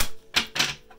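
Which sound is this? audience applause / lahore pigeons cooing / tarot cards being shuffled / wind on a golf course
tarot cards being shuffled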